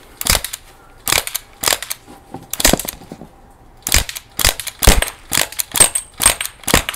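Crosman 1077 air rifle fired through a 3D printed rail silencer: about a dozen sharp, snappy cracks in uneven bursts, close and loud, with quiet gaps between shots.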